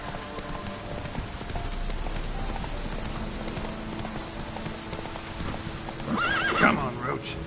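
Hooves of the horse Roach clip-clop in a steady gallop through a video game scene with rain in the background, and a whinnying neigh rises near the end.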